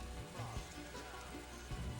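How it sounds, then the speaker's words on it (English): Rain in TimeSplitters 2, a faint steady patter of drops on hard surfaces with soft scattered taps throughout and no talking. "the rain effect does make me think of Metal Gear Solid 2"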